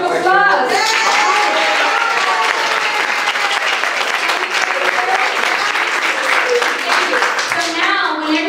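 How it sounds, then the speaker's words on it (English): A crowd at a Memorial Day service claps and applauds loudly and steadily for several seconds, dense and close, with a few voices calling out near the start and end. "So big round of applause."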